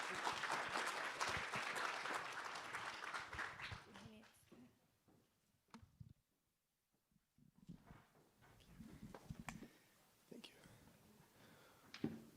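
At an entrepreneurs' event, an audience applauds a speaker walking on stage, dense clapping for about four seconds that fades into a quiet room with shuffling, faint knocks and low murmuring voices.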